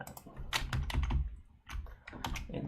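Fingers type quickly on a computer keyboard while a service ticket is written, close clicky keystrokes in bursts with a short pause midway.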